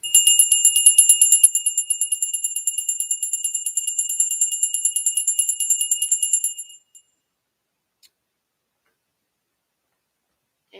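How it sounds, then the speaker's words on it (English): Small bell ringing in a fast, steady tinkling series for about six seconds, bright and close, then stopping abruptly and leaving near silence. "y'all believe people get their wings when you hear a bell."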